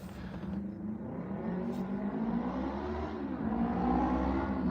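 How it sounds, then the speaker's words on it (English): A car engine revs in the background outside, a steady low whirring drone that builds slightly toward the end with no talking over it. "Did you hear that car just rev in the background?"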